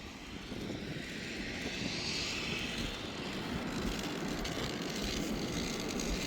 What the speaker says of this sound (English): this is how airplanes get here in Gibraltar. They land here and they go that way